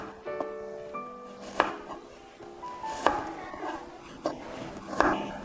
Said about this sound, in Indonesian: kemudian kita iris perlahan